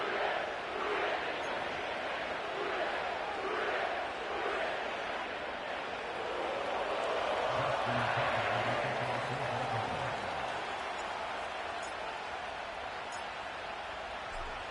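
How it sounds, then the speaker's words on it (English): Sellout stadium crowd roaring at Paycor Stadium in Cincinnati for a Ravens–Bengals football video game, a steady wide wash of cheering and noise throughout with a brief low horn-like tone in the middle. "sellout crowd has arrived at Paycor Stadium in Cincinnati"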